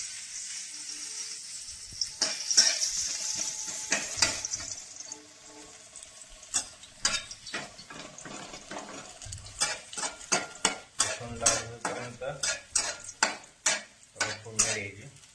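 Tempering sizzles in a hot pan for a vegetable dish and is stirred with a utensil, a soft hiss at first, then a run of quick, close scraping and stirring strokes with no talk.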